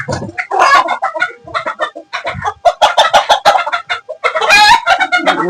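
A Turkish Sultan rooster on a fancy poultry farm gives repeated loud, close clucks and squawks in quick irregular bursts, ending in a rising crow-like call.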